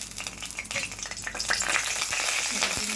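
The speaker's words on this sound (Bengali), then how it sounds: "আমি 5 ফোড়নটা দিয়ে দিলাম।" Panch phoron, the Bengali five-spice mix, sizzles and crackles steadily in hot oil in a pan, a close, continuous frying hiss with small pops and stirring scrapes throughout.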